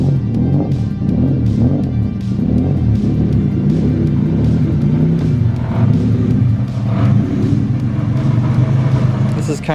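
A BMW E36 engine idles and revs as the car is moved around a workshop, a loud, close, steady low rumble with repeated throttle blips and swells, while a person speaks over it.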